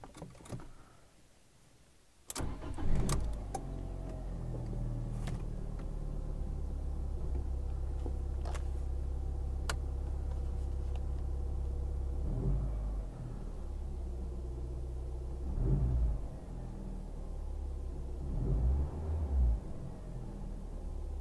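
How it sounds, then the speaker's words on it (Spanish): A small Fiat 500 engine cranks and catches after a quiet start, then settles into a low, smooth idle rumble with a few faint clicks and light revs, heard close and without speech. "Lo vamos a encender. Es un motor muy pequeñito."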